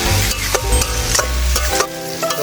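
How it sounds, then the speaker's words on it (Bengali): Spice paste for katla fish curry frying in hot oil with whole green chillies, a loud, steady sizzle under repeated stirring scrapes in the pan. "আমাদের মশলা থেকে তেল ছেড়ে দিয়েছে, কষিয়ে নিয়েছি ভালো করে।"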